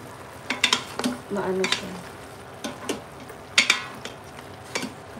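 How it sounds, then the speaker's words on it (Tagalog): A ladle stirs native chicken with whole garlic cloves in a pot, giving scraping clinks and soft sizzling in uneven strokes close by, with someone briefly speaking. "So, i-mix ko lang para sa ilalim"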